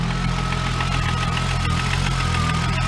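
A Volkswagen Corrado engine idles steadily on its first start after a long crank, giving a continuous low rumble with a faint even vibration and no voices.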